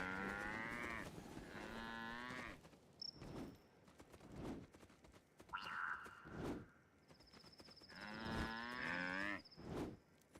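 Cattle in the Guild Wars Nightfall video game lowing in several long, drawn-out moos, close and clear, with a few thuds and chimes between them.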